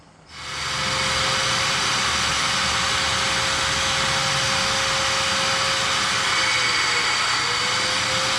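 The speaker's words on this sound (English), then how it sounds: "Just got finished vacuuming out the fuel tank" A vacuum cleaner roars up after a short quiet start and runs steadily at close range, a loud broadband whoosh with a thin whine, while a semi truck fuel tank is vacuumed out.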